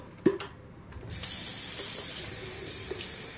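Tap water runs into a water flosser reservoir at a bathroom sink, a small clunk first, then a steady hissing stream that continues evenly to the end, close and moderately loud.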